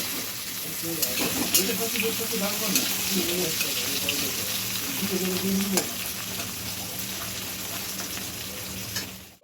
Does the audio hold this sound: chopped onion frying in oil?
yes